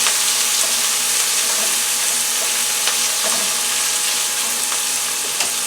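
Steady, loud sizzling of beef frying in olive oil in a pan for a teriyaki stir fry, a dense crackling hiss with occasional sharper pops, continuous throughout with no voices.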